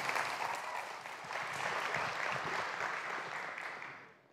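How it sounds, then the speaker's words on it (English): An audience at a community church gathering applauds as a speaker comes up, a steady, fairly faint wash of many clapping hands that swells slightly and then fades out. "So y'all give her a big round of applause as she comes up."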